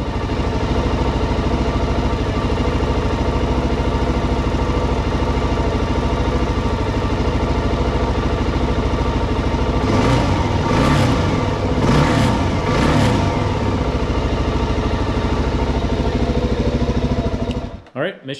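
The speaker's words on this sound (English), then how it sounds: "after I started the bike up" A Suzuki DRZ400 motorcycle engine runs steadily at idle close by after a charging system repair, with a few brief throttle blips partway through, then cuts off at the end.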